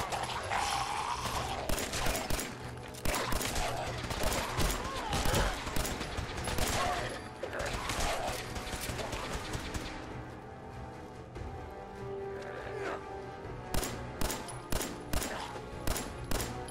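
Rapid bursts of gunfire from the video game Fallout 4, with dense repeated shots through the first half, then a quieter stretch and more clustered firing at the end, with game voices mixed in.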